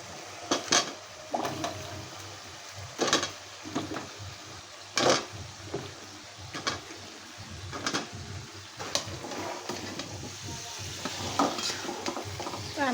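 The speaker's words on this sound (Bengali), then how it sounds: "আমি এখন পটলগুলো দিয়ে দিই।" Pointed gourd fries in spiced oil for a fish curry, a continuous sizzle with repeated loud scrapes and clanks of a spoon stirring against the pan, no voices.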